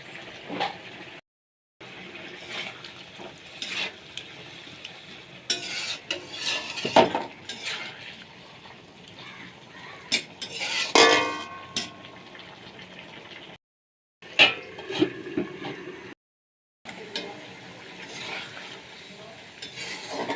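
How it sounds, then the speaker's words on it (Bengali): Prawns go into a cucumber curry in a pan and get stirred, giving intermittent metal spoon clinks and scrapes over a quiet sizzle, with short silent gaps between. "এবার এখানে চিংড়ি মাছগুলো দিয়ে দেবো।"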